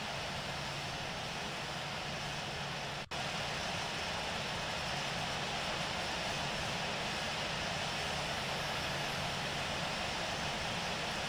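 Airliner takeoff in the Infinite Flight simulator, a Southwest flight departing runway 19 right at Kansas City, with a steady, loud engine roar throughout, broken by one brief dropout.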